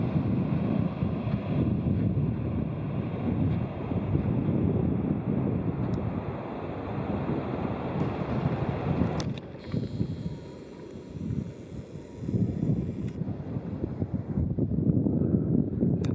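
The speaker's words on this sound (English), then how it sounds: "This is the very, very end of the Seabrook Island Beach." Wind gusts and rolling surf on Seabrook Island beach in South Carolina, a steady broadband roar with pulsing swells, briefly easing near the middle before building again, no voices.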